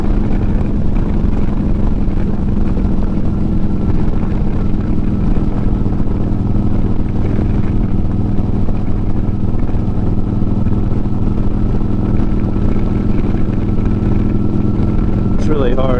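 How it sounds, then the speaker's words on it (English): A 2009 Harley-Davidson Road Glide motorcycle on the move, its steady low engine drone and wind rush filling the whole stretch at close range, with a brief higher whine near the end. "I like the way that this bike cuts the wind."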